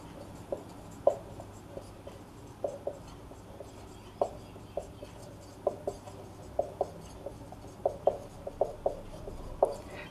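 A pen scratches on paper in a class 12 maths lesson, with quiet, short strokes and taps repeating at an irregular pace in an otherwise calm room, with no talking.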